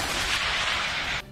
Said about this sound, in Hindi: ताइवान की सेना के टैंकों ने समंदर की तरफ निशाना साधकर ताबड़तोड़ गोले बरसाए